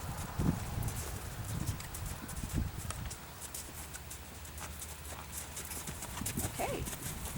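Horse hooves thud in a rhythmic canter on an arena surface during a riding lesson, moderately close, with faint background noise and scattered soft sounds.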